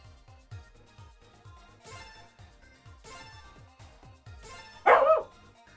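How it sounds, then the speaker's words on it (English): A dog barks three times, faint and distant in the background, under rhythmic game music, followed by a louder single bark close to the end. "Not sure if you heard that, but my dog's in the background."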